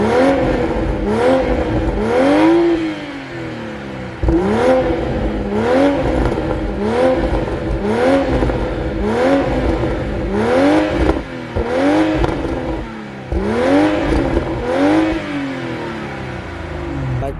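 A Toyota A91 GR Supra's B58 inline-six revs loudly and repeatedly outdoors, each sharp blip rising and falling in a steady rhythm of roughly a dozen revs, with no talking.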